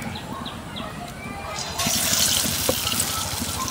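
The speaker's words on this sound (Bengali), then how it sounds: "এবার তেলের মধ্যে ছেড়ে দেবো।" A battered potato chop lowered into hot oil, a sudden burst of crackling, hissing frying that begins partway through and continues, with faint voice and kitchen sounds beforehand.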